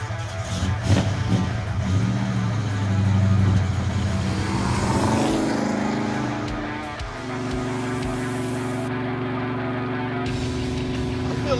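A red Plymouth Duster drives on the road with a steady engine drone and some revving that settles into a constant cruising hum. Talk is faint in the cabin.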